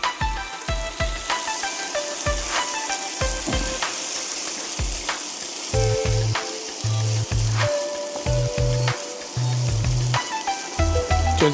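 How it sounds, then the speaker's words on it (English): Potato and half a tomato sautéing together in a pan for a Bhutanese kewa datshi chilli-cheese stew, giving a steady broadband sizzle throughout, with soft stirring knocks and a tonal musical background underneath. "So it's getting sauteed together for just another 30 seconds."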